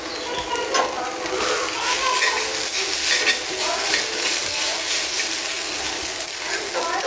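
Flattened rice (chira) sizzles steadily in about four tablespoons of soybean oil while being stirred in a pan, a continuous close crackle with faint bird chirps in the background.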